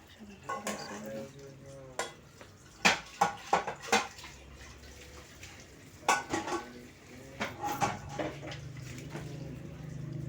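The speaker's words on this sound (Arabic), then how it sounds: "دلوقتي هنغسل شويه المواعين اللي في الحوض دول" Dishes and cutlery clatter in bursts, with sharp clinks and knocks over a low background hiss of running water.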